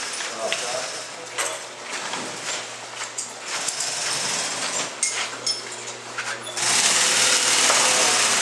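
Sewing machine stitching heavy tactical gear fabric in a workshop, a steady mechanical whir with brief pauses and changes in speed, running continuously up close and growing louder toward the end, with faint voices in the background.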